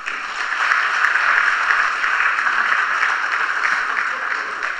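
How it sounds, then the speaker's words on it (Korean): A congregation claps steadily in welcome at a Korean Liberation Day joint prayer service in a church, a dense continuous applause held at an even level for the whole stretch with no talk over it. "나오실 때 박수로 환영하겠습니다."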